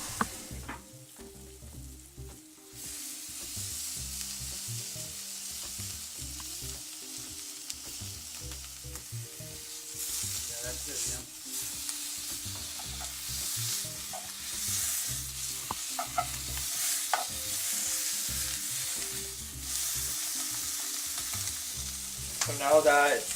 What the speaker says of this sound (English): So now that the pork is done frying on the frying pan